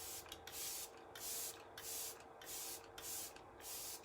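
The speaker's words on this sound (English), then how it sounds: "the last is the Let It Set Refreshing Spray" Six short hissing bursts of Let It Set Refreshing Spray setting spray mist out in an even rhythm, close and fairly soft, separated by brief quiet gaps.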